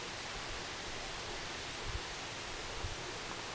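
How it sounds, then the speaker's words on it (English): Running water from a creek behind a roadside rest area, a faint, steady, broadband rush heard from a distance, with a couple of soft low thumps and no voices. "There's running water in the back, there's a creek, you can hear it."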